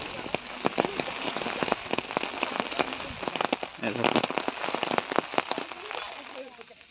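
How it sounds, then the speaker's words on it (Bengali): Heavy rain falls steadily across a Darjeeling tea garden in Mirik: a dense, continuous patter with many crisp, distinct drop hits close by. "বিকজ এখানে ভালো বৃষ্টি হচ্ছে এখন।"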